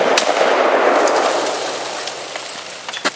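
An AK-47 rifle fires outdoors: one sharp, loud crack rings out and decays into a long echoing tail, followed by a few faint clicks and a smaller pop at the end.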